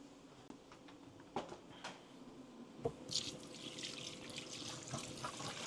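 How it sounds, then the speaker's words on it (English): Lukewarm tap water running into a kitchen sink while raw meat is rinsed, a quiet steady trickle with scattered splashes and drips, close by and alone. "Then I just rinse it down with a bit of lukewarm water."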